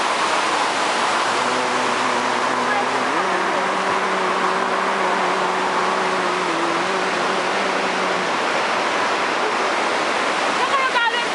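A waterfall pours down in a steady, broadband rush that stays constant throughout, with faint tonal sounds drifting over it midway.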